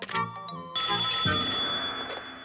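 A cartoon telephone rings in a single sustained burst with a steady high tone, loud and close, right after a short mix of other sounds.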